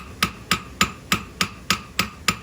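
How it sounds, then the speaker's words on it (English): A hammer strikes hot metal at a forge eight times in a steady, even rhythm about a third of a second apart. Each blow is a sharp, ringing clank that decays quickly. "hammer back out a little bit here to have a better transition"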